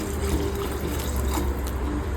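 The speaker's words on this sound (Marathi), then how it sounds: "तर आता मी थंड पाणी टाकत आहे." Cold water pours steadily into a pot of rice for chicken biryani, a continuous close splashing rush with no talk.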